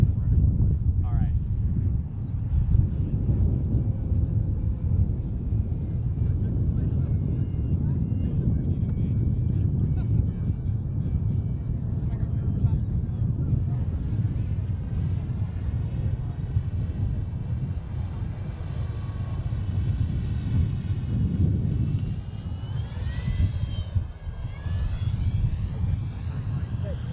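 A model airplane at a Design/Build/Fly competition flies around for a loop, its motor a continuous distant drone under heavy wind noise, with brief speech in the background.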